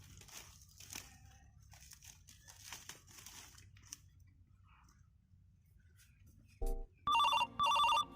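Soft rustling and faint clicks, then a loud electronic phone ringtone bursts in, ringing in repeated short tones near the end.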